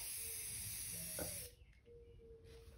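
Rust-Oleum Gloss Key Lime spray paint hisses steadily from a can for about a second and a half before the spray stops, leaving faint background noise.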